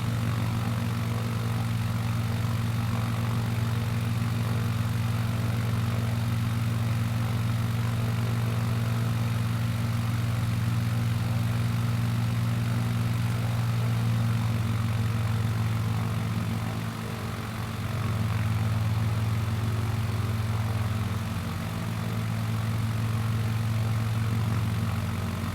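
A light propeller aircraft engine in Microsoft Flight Simulator 2020 drones steadily at cruise during a descent, a constant low buzzing hum with a brief dip in pitch partway through as the RPM is eased back.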